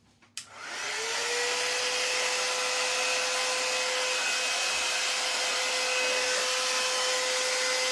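A handheld dryer switches on with a click and spins up into a loud, steady whine and whoosh of air while drying a jello-mold pumpkin craft piece, holding at constant volume close by.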